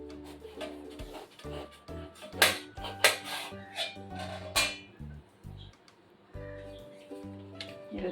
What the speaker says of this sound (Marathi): आता आपण फणस कापूया